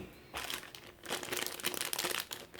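Plastic wrapping crinkling and tearing as a packet of new board game cards from an expansion is opened, close and brisk, with short bursts after a brief quiet start.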